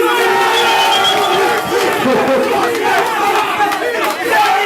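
A large crowd roars and cheers loudly and continuously, with shouts rising and falling in a dense, close mass of voices.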